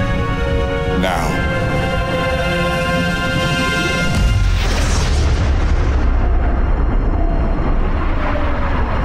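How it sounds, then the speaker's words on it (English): An antimatter explosion effect from a Star Trek fan film hits as a sudden deep boom about halfway through, then rolls into a long, loud low rumble that fades slowly, following a sustained tonal hum before it. "Antimatter explosion, sir."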